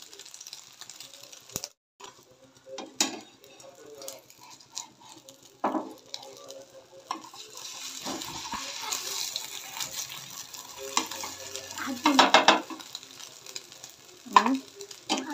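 Oil sizzling around an omelette sandwich in a frying pan, a steady soft crackle with scattered sharper pops and clicks, growing busier and louder toward the end.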